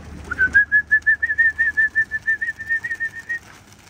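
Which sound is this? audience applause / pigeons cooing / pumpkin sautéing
pigeons cooing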